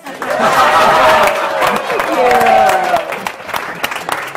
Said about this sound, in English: And now let's do a round of applause for Kathleen.